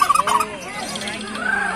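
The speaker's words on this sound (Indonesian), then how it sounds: "Joli Kalkun ini lagi nonton lomba juga." A turkey at a songbird competition in Taman Balekambang lets out a loud, close, warbling gobble that rolls on for nearly two seconds.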